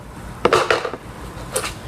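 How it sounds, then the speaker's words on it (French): A bowl set into a dishwasher while baking vanilla cupcakes at home: a few quick clinks and clatters of crockery in the middle, then a lighter knock near the end, close and fairly loud. "On met le bol dans le lave-vaisselle."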